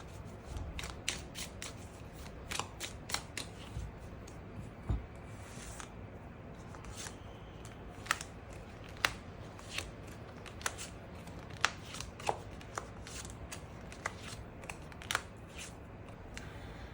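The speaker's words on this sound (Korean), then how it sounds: "추가 카드 뽑아보도록 하겠습니다" Tarot cards shuffled and drawn for a love reading make a long run of quiet, crisp card flicks and snaps, some spaced apart and some in quick clusters, over a soft room noise with no talking.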